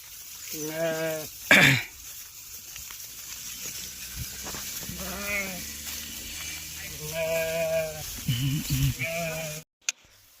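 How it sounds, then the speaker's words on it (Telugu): Several sheep from a flock of about two hundred bleat in turn, calling close by with wavering cries, over a low steady background hum; a brief sharp knock cuts in partway. "మా బాబాయ్ గొర్రెలు అయితే కలిసినాయి"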